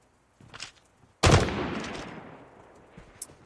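Gunfire in the mobile battle royale game PUBG Mobile: a sudden loud burst of shots lasting about a second, then a long echoing decay. A few faint shots come before it and one more faint crack follows, with no talk.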